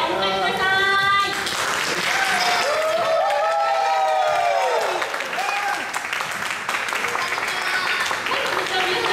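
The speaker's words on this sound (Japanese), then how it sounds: "大変な拍手でお迎えください。" Audience applause and cheering at a live stage show welcoming a group of performers, a dense, loud wash of clapping that runs steadily throughout, with voices audible over it.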